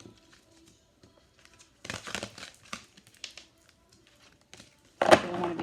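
Tarot cards shuffled by hand in soft crinkling bursts around two to three seconds, fading to faint rustles, then a louder, denser burst of card noise near the end, recorded close with no talking.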